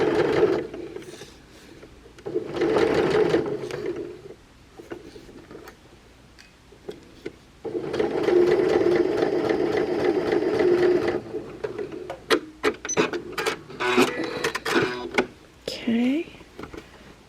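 A sewing machine stitches a French seam on a shirt in rapid whirring runs of varying length with pauses between them, and fabric is handled and snipped toward the end.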